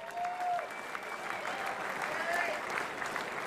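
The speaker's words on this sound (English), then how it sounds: "Nugget a big round of applause." A crowd at a Muay Thai fight event in Melbourne gives a round of applause, a steady wash of clapping with some voices mixed in.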